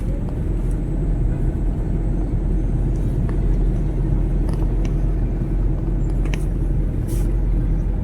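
Car traffic rumbles steadily along a congested road in the Philippines, a continuous close engine drone broken by a few faint clicks and squeaks.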